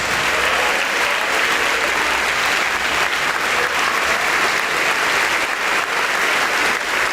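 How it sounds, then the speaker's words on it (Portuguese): A church congregation applauding at a Portuguese-language worship service, a loud, dense and steady wash of many hands clapping that holds throughout without pause. "E vamos aplaudir mais ao Senhor Jesus."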